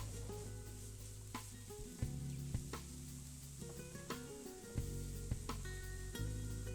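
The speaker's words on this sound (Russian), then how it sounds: "Тем временем овощи на сковородке протушились." Vegetables stew in a frying pan with a soft, steady sizzle, heard up close and quiet, broken by occasional faint clinks.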